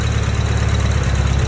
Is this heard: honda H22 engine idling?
yes